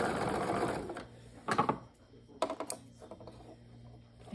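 Sewing machine stitching fabric, basting stitches, with bursts of rapid mechanical needle clatter that start and stop as the sewer slows at corners, close and moderately loud.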